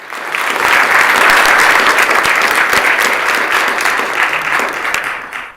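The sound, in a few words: applause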